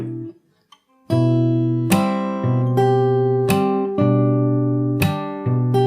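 A guitar plays a riff from the very beginning. After a brief quiet pluck, a steady sequence of ringing chords and notes follows at an even rhythm, close and clear, with no talking.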